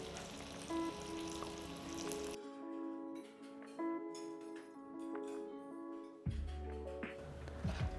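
Cod loin pan-fries in a hot pan, a continuous sizzle that cuts out abruptly and returns, with tonal hum and occasional clinks alongside it.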